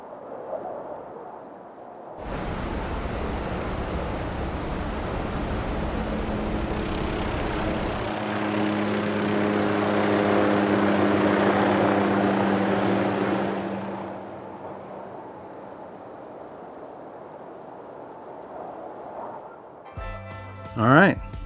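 A helicopter's rotor thumps and engine roar rise abruptly, hold steady and loud for several seconds, then fade away, leaving near silence before a brief noise.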